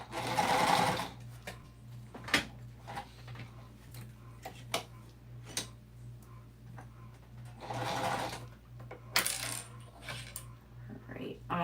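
Close sewing machine stitching a minky blanket, with its whirring motor running in short bursts and a steady low hum between them, plus scattered clicks and light taps.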